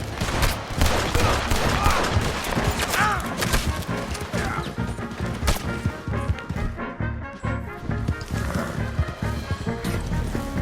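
A Red Dead Redemption 2 shootout: rapid, overlapping gunfire with sharp cracks and crashes, mixed with galloping hoofbeats, continuous and dense throughout.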